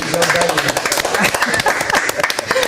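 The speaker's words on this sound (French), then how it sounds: "on applaudit Armel" Studio audience on a French-language TV show clapping for a guest, loud, close, irregular claps mixed with voices and crowd noise over a short burst.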